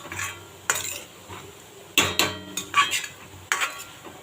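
Tomato thokku rice stirred in a pan, a metal spoon scraping and clinking against the pan in several distinct strokes, close and clear with a faint sizzle and no talk.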